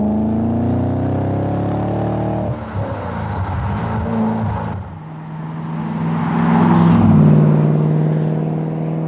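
Supercharged V8 engine of an Aston Martin Vantage V600 Le Mans accelerating, heard from inside the car: a loud, steady rising drone, a brief drop as the gear changes, then the engine pulls hard and climbs again.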